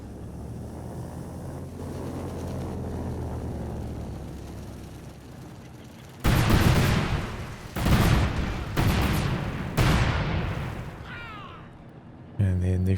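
A cluster bomb strike in a strategy video game sets off a burst of heavy, loud explosions in quick succession after a quiet stretch of speech.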